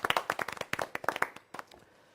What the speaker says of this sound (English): let us give ourselves a big round of applause